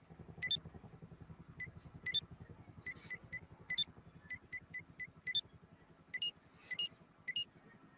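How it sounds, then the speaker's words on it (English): Glitch-distorted phone sound effects in GTA Online: sharp clicks and beeps in uneven succession, riding over a constant low, buzzing rumble that gives them a harsh, corrupted quality, with no talk. "there's a random glitch that distorts your phone's sound effects"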